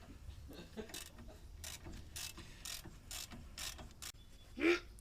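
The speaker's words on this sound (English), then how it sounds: "you can use your handy dandy ratchet and ratchet it off of there" A hand ratchet clicks in a series of short, evenly spaced strokes while loosening brake caliper bolts on a car, heard fairly close and alone, ending with a brief squeak.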